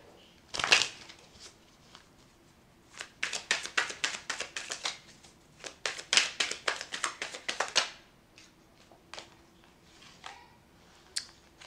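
Tarot cards are shuffled in close, snappy bursts of riffling clicks, then slow to a few scattered taps and slides as cards are drawn, with no talking.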